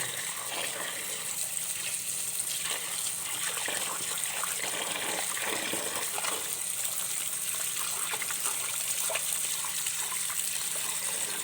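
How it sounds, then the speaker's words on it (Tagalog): Medicinal herbs washed under steady running water, a continuous close gush and splash of tap water that holds at an even level throughout with faint trickling detail and no speech. "Hugasan lang natin to."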